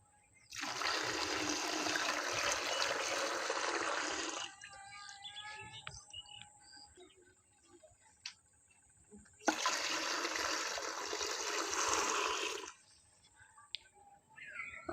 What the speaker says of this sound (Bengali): আমি এখন বেটা ট্যাঙ্কগুলোতে জল দিয়ে দেবো।